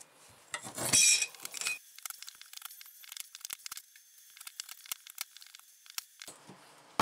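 Household scrap aluminum being cut into small pieces, starting with a loud crinkling, crumpling burst, then a string of sharp, sparse clicks and snips against a quiet background.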